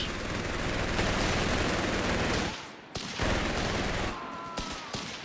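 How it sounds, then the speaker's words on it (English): Heavy machine-gun fire in Company of Heroes 3, a dense continuous battlefield barrage of automatic bursts that cuts out briefly, then resumes with scattered nearby shots and rattles. "The machine gun came close enough that it did reveal itself by the crew member shooting at the sapper."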